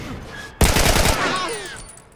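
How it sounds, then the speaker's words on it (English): Sudden burst of rapid gunfire from The Last of Us Remastered on PS4, a loud rattling volley with ringing echoes that trail away. "anybody who's paying attention probably heard where the gunshots came from."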